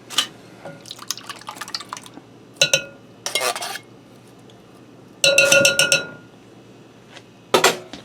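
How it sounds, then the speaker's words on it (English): Canned French onion soup slops and drips into a dish in several short bursts, each with wet splashes and light clinks against the container, separated by brief pauses. "I'm going to put a can of French onion soup in here"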